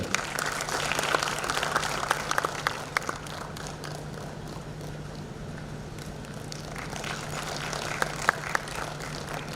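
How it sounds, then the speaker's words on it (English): Sustained applause from a sizable crowd at a hackathon event, steady clapping that continues for several seconds at moderate volume, heard from a distance in a large room. "Can we have a round of applause, please?"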